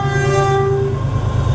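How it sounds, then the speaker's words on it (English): A train horn sounds a long, steady tone for about a second, loud and close, then fades into the low rumble of the passing train. "Let's see if we can get him to toot his horn."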